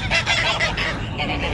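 Geese honk loudly and close by, a quick run of overlapping nasal calls repeating without pause.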